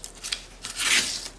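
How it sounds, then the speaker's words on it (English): A hook pick tool peels tape off a landscape album base. It makes a brief, close scratchy rip and rub that swells for about a second, with no talking. "I'm gonna reach in with my hook tool, my hook pick tool, and pull off the rest of that tape."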